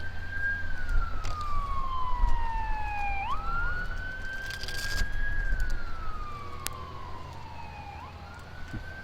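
Rescue vehicle sirens wail past in repeated rising and falling sweeps, loud and close at first and then receding, over steady street noise and rumbling traffic.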